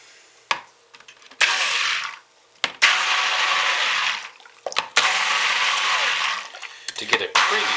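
Pink colorant being stirred into soap-making oils with no lye, heard as bursts of whirring mixing that start and stop several times with brief clicks and knocks between them, close by and fairly loud.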